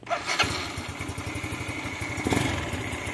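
A Yamaha Mio 4V fuel-injected motorcycle engine with an NMAX stock exhaust pipe fires up and keeps running with a steady, rumbling putter, fairly close and loud throughout.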